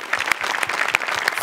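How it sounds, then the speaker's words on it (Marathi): A studio audience at a Marathi comedy show claps loudly and steadily in a dense burst of applause that fills the whole moment. "जोरदार टाळ्या पुन्हा एकदा"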